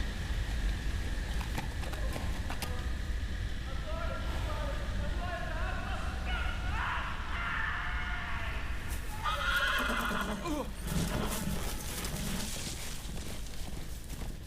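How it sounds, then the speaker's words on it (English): A horse in a Game of Thrones video game whinnies several times over a steady rumble of hooves and ambient game noise, the calls rising and falling in pitch. "Uh-oh, the horse ran off."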